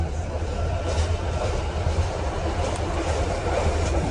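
A Fortaleza metro train runs on its rails with a steady, loud low rumble and rhythmic rolling, heard from on board, with faint voices under it.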